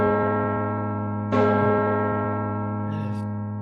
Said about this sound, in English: The bell wakes you.